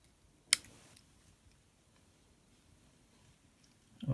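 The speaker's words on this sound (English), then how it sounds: "Trim away the waste." A single sharp scissor snip trimming waste silk at a fly-tying vise, close and crisp, followed by quiet room tone and a faint handling rustle at the end.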